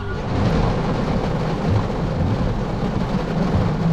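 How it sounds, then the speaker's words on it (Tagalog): Heavy rain drums steadily on a car during a family trip to Jesolo, Italy, a dense continuous roar with low rumbling underneath that may be thunder, loud and unbroken from start to finish. "lakas ng ulan."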